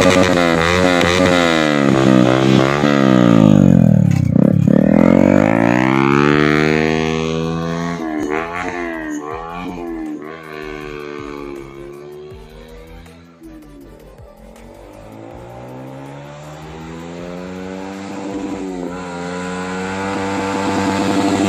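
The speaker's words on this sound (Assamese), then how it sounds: "আপোনালোকে চাই থাকক বাইকখনৰ মাতটো কেনেকুৱা হ'লে" A Yamaha MT-15 motorcycle with a modified exhaust rumbles while being ridden, its engine note rising and falling through loud revs and gear changes over about twenty seconds, with no speech.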